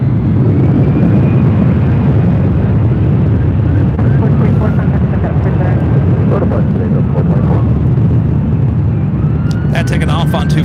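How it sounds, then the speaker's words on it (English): A Delta Airlines Boeing 757-200 takes off from runway 24 left at LAX, its steady broadband jet roar filling the scene continuously, with distant radio chatter and a voice talking over it. "taking off on 24 left is Delta Airlines Flight 424, 757-200, heading to Minneapolis"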